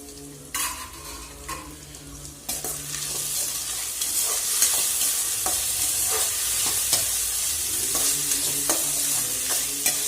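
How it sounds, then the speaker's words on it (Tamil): Chopped tomatoes added to softened onions in a pan for brinjal poriyal, frying with a steady loud sizzle as a spatula stirs and scrapes against the pan in repeated close knocks, no talking. "இப்போ நம்ம எடுத்து வச்ச தக்காளி இதில் சேர்த்துக்கலாம்."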